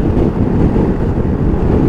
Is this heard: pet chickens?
no